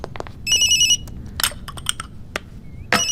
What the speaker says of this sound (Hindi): आ फोन मुझे दो प्लीज।